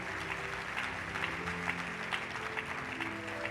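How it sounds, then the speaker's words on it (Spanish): Congregational applause at a Spanish-language church service, a steady wash of many hands clapping over a low sustained organ or keyboard tone, fairly even in level throughout. "Denle un aplauso al Señor"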